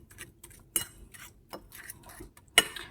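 A utensil clinks and scrapes against a bowl while banana oat pancake batter is mixed, a few sharp irregular taps spread over a few seconds, close and fairly quiet, with no talking.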